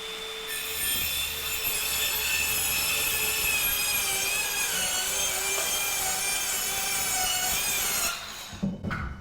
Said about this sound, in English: So I can see why Dewalt has made this their kind of saw for cutting sheathing.